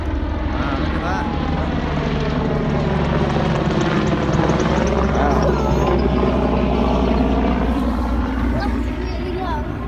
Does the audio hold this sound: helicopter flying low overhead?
yes